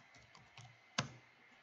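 A computer keyboard is typed on during a search in FL Studio 20: a few soft, scattered keystrokes and then one sharp, close click, with no talking.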